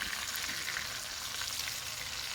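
Fish frying in hot oil with curry leaves, a steady dense sizzle that holds at an even level throughout with no voices over it.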